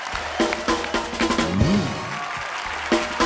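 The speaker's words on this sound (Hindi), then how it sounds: "हर्ष और सैमी के लिए जोरदार तालियां" A TV comedy show studio audience applauds two guests, Harsh and Sammy, with clapping and crowd noise under a sustained musical sting, all fairly loud and close.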